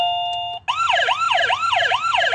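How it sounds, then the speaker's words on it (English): Police car siren wailing up and down in a fast repeating cycle, loud and close, following a brief steady two-tone electronic beep that cuts off just before it starts. "That's the police car,"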